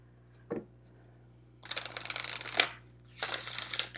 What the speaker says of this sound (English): this is like one of my favorite decks to shuffle